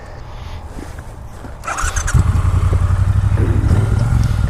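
A motorcycle built to rival the Harley-Davidson Sportster starts with a whirring crank and catches into a loud, close, throbbing idle that carries steadily to the end.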